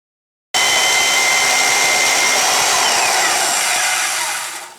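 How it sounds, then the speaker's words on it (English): A bandsaw grinds through thick steel, starting abruptly after a brief silence and then keeping up a loud, continuous harsh whine close by, easing off slightly at the very end. "So, over to the bandsaw. You don't need to see that. There's nothing more miserable than cutting through thick steel,"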